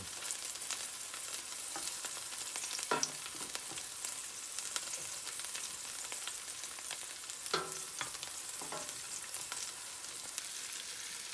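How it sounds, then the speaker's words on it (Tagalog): Beef tenderloin sautéing for Ilocano igado gives a steady, soft sizzle with occasional scraping stir clicks from a utensil in the pan. "saka naman natin igigisa ngayon yung ating tenderloin"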